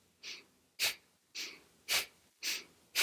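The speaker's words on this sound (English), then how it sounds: "let's use the breath with Bastrika, which means breath of fire" Rapid Bhastrika yoga breathing, the breath of fire: six forceful, close breaths alternating in a steady pumping rhythm, each a sharp rushing burst of air separated by brief pauses.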